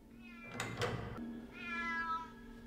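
A cat meows in a scene from the film Harry Potter and the Sorcerer's Stone, a single drawn-out, close meow following a couple of brief knocks, with no talking over it.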